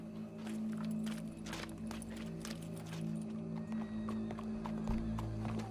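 Horse hooves clip-clopping in Red Dead Redemption 2, a steady run of hoof strikes over a low droning background, with an occasional snort, fairly close and continuous.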